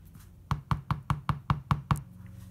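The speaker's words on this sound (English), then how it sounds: "I tap down and make the air go to the top." Eight even, quick knocks as a designer liner bottle is tapped down on a hard surface, each a close, dull plasticky thud in steady rhythm, with no talking.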